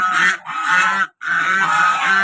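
Domestic desi ducks kept at a village garden house give loud, close, harsh honking quacks in two long overlapping bursts separated by a brief pause.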